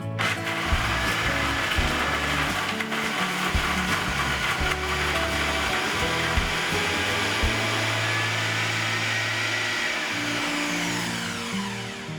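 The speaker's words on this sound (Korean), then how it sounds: "그 중에서도 얼음은 빙수기가 부럽지 않을 정도로 아주 곱게 갈아지더라고요" A Cuckoo CrossCut blender grinds hard ice in a loud, steady motor roar with gritty rattling and crunching throughout, close and continuous, no voices.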